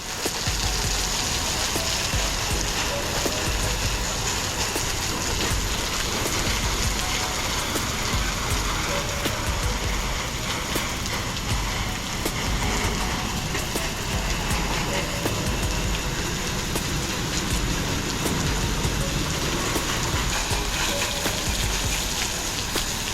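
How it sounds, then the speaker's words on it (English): A pressure washer sprays a steady, loud, continuous hiss while rinsing windows, the broadband water spray holding constant with no pauses throughout. "Always make sure you rinse the windows really well."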